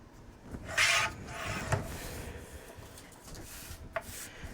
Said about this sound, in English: So I'm going to cut the strip off the bottom.